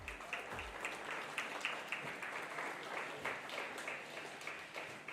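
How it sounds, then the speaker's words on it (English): An audience at a county youth livestock expo applauds, a steady, moderately distant spread of clapping hands that holds evenly for several seconds without talk. "So give them all a big round of applause"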